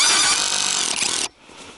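A battery-powered cordless drill runs in drilling mode with a loud, steady high whine for over a second, then stops abruptly, leaving only faint background noise.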